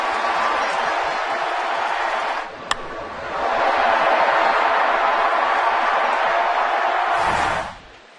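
A baseball stadium crowd roars after a Todd Helton home run off Billingsley at Coors Field, Dodgers at Rockies, a sustained loud wash of cheering that dips briefly, swells again, then fades out.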